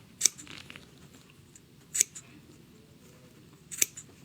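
Sharp Janome scissors snip through fabric up to the seam allowance: three crisp, close cuts spaced about two seconds apart against a quiet background.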